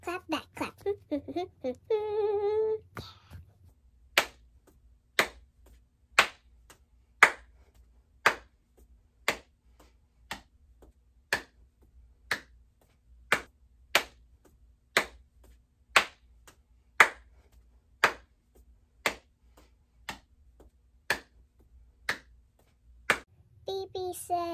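Rhythmic hand claps, alternating front and back, ring out as evenly spaced single sharp claps at roughly one per second in a quiet room, with a voice briefly at the start.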